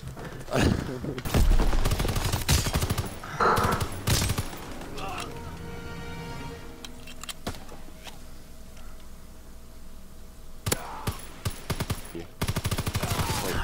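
Bursts of gunfire from a World War II shooter game, Call of Duty WW2, rapid automatic volleys and single shots cracking loudly in clusters with quieter gaps between them, under bits of talk.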